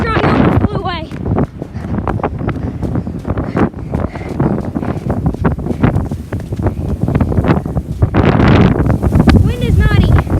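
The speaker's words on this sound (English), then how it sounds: "This wind is so strong, it almost blew away." A strong Maryland wind gusts hard into the microphone, roaring and buffeting loudly throughout, while a person speaks and exclaims over the rushing noise.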